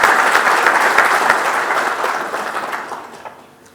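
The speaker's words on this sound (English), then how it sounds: "Give a round of applause to CA Mahendra, please." Seminar attendees welcome a guest speaker with brisk group clapping, loud at first and then gradually tapering off into scattered claps over a few seconds.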